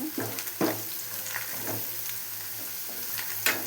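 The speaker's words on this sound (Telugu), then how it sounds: "అది వేసి బాగా ఫ్రై చేసుకున్నాం" Ground spices sizzle steadily in a hot pan while a utensil stirs and scrapes them now and then, close up with no voices.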